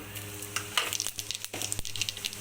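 Mustard seeds and fennel seeds sizzle in hot oil in a pan, frying as masala for a home-made egg roast, with a steady close crackle and scattered pops. No one speaks.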